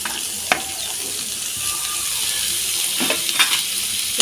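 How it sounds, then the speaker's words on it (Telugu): Carrot, capsicum and cabbage stir-frying in a hot pan, a steady bright sizzle broken by scraping strokes of a spatula, close and fairly loud. "సన్నగా కట్ చేసి పెట్టుకున్న క్యారెట్ ముక్కలు, క్యాప్సికమ్ ముక్కలు వేసి వేయించుకుందాం"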